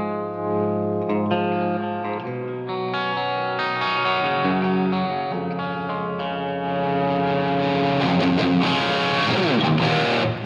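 A heavily distorted, high-gain electric guitar tone modeled on a Line 6 Helix plays sustained chords and notes continuously, thick and saturated, growing slightly louder toward the end.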